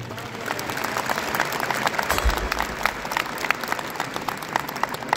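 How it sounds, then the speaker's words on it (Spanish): An audience in a large theatre in Oruro, Bolivia applauds at a song festival, steady crowded clapping with sharp individual claps and a low thump partway through, a few voices faintly mixed in. "para quienes pido un fuerte voto de aplauso"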